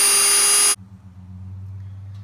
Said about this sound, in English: back to the Dremel. I'm just taking this wire brush and going over the edge